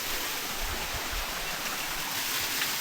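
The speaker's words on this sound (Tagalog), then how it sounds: "mahina daw yung agos sa tubig kasi nga daw dahil sa summer time" Water flowing steadily in a gentle stream at a foothills hacienda, a continuous soft rushing with faint low rumbles, no voices present.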